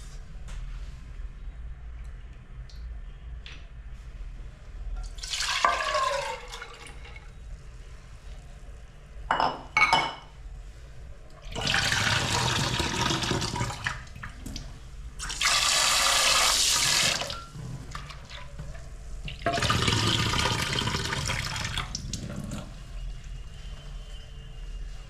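Water runs from a tap into a pot of soaked chana dal and potato in a home kitchen, in several separate gushes of a few seconds each, with faint clinks of utensils between them.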